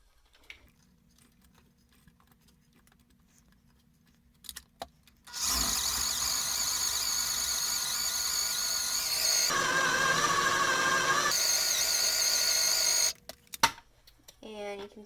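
Dried meat being ground into a fine powder for pemmican: a steady, loud high-pitched whir of a grinder motor runs for about eight seconds, its pitch shifting midway, then cuts off, with quiet talk before and after.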